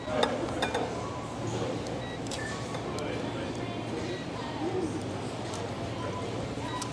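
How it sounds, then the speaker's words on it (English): Spoon clinks and scrapes on a pot while simmered meat, onions and juice are ladled over rice, soft repeated clatter against a steady background hum. "So I'm going to spoon this or get this over the rice"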